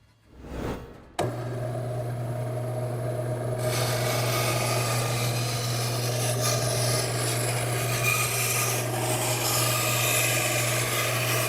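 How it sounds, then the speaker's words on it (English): A bandsaw whirs up to a steady drone with a low hum, then a grinding rasp as the blade cuts through wood, continuous and close. "Now I'll use a bandsaw to make the cut."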